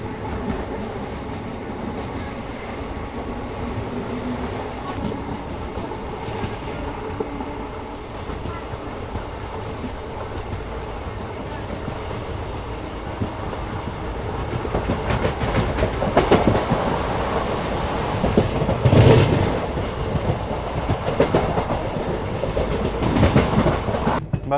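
Passenger train running at speed on a dedicated freight corridor near Ghaziabad, with a steady rumble and rhythmic clickety-clack of wheels that grows louder and heavier in the second half, heard from onboard.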